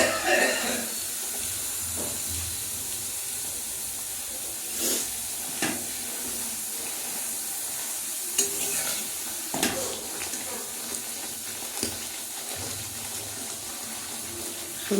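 Pea-stuffed puris (kachori) deep-frying in hot oil, giving a steady bubbling sizzle with a few sharper crackles and utensil taps, close and moderately loud with no talking.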